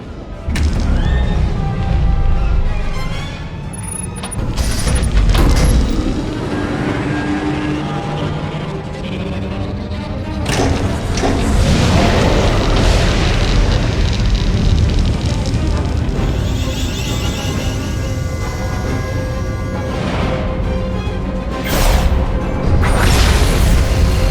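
The Silencer warship superweapon firing in the Sith Inquisitor story of Star Wars: The Old Republic, with loud booming blasts, rushing whooshes and crashing explosions that swell and recede over a sustained roar, with brief voices in places.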